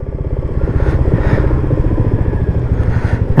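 A Royal Enfield Meteor motorcycle thumps steadily and loud up close, with a regular low exhaust beat and a few soft pops from the exhaust, no talk.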